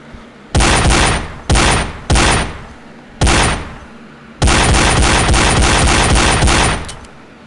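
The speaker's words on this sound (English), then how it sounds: "It's basically like a double-barreled shotgun, but pistol." Gunfire from a double-barreled pistol in the virtual reality game Gun Club VR, loud sustained bursts of rapid shots starting and stopping in several runs, the last one long, with no talk.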